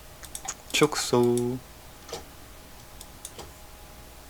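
Computer keyboard shortcut keys are pressed during an Illustrator zoom lesson, giving a few crisp, close clicks with a brief spoken word among them.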